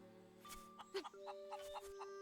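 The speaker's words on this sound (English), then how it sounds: "I mean, the chicken is not a rooster, I guess." A chicken in a Zelda video game gives a few short clucks over sustained game music and tones, quiet and brief.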